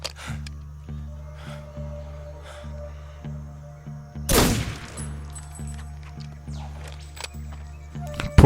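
A single loud gunshot with a sharp blast in the video game Metal Gear Solid 3, set against a steady pulsing game soundtrack and rumbling engine-like drone.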